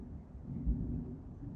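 A low, muffled rumble of thunder rolls through, faint and distant, with a slight swell in the middle.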